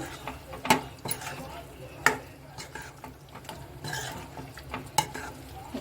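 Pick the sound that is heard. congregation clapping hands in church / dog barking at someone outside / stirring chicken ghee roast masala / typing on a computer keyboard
stirring chicken ghee roast masala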